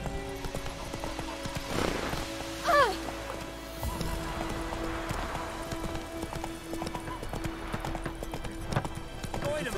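A horse's hooves clip-clop steadily during a ride in The Witcher 3 video game, with a whinny partway through. Game voices speak over the hoofbeats, and there is faint ambient sound underneath.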